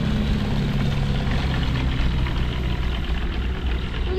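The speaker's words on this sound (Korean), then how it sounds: "비행기도 날아다녀." Propeller airplane droning overhead above a frozen rural cycling route in South Korea in winter, a steady low engine hum that fills the whole clip without a break, fairly loud and unbroken by talk.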